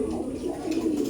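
Giribaj pigeons cooing softly in a loft, a steady low murmur of overlapping coos lasting about a second, close and continuous with faint background noise.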